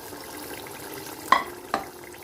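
Golden-browned chicken is stirred into pulao masala in a cooking pot, with a low sizzle underneath and two sharp spoon knocks against the pot near the end.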